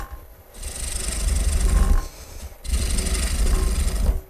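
A wood lathe spins while a gouge makes roughing cuts, producing two loud, close bursts of rough scraping and rumbling, separated by a short pause.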